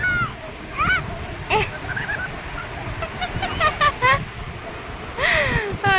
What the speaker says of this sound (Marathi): लाट आली की रुद्र अंशू गेला पळून